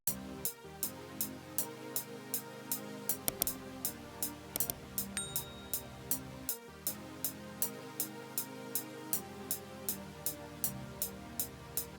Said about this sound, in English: Next up is a saw preset from Serum,